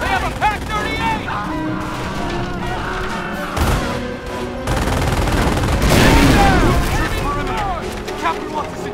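Gunfire in the World War II strategy video game Company of Heroes around Carentan, with machine-gun bursts and heavy booms rolling in a battlefield din, while soldiers shout over the shooting.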